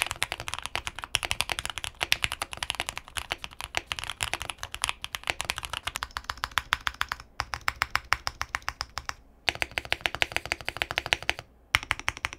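Steady, fast typing on a QK75n custom mechanical keyboard fitted with full foam and a solid plate, giving deep, muffled clacks in a dense rhythm with a couple of brief pauses, close and alone.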